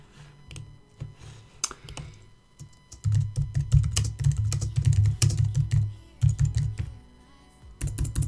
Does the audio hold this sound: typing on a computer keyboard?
yes